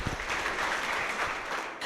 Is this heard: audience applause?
yes